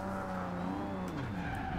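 In the Forza Horizon 2 racing game, a Nissan Skyline 2000GTR drifts with a continuous tire squeal over a wavering engine tone, loud and close for the whole brief stretch.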